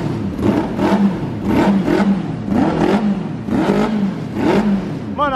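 A motorcycle engine with a weak fuel pump revs up in repeated pulses, about five throttle blips that rise and fall, loud and close, with a rough, uneven pitch on each rev.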